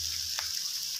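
Glass noodles with marinated pork and onion sizzle steadily in a hot pan while being stir-fried, a continuous close hiss with no voices.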